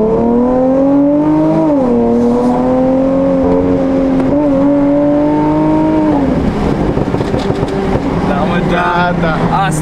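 A Dodge Challenger engine drones loudly and holds steady revs, dipping and climbing in pitch, then breaks into rougher, choppier revving near the end.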